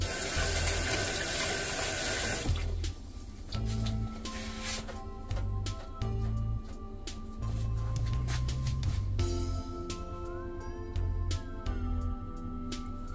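Water runs loudly and steadily from a tap while a cucumber is washed under it, a continuous rushing splash heard close with faint clatter and no talking.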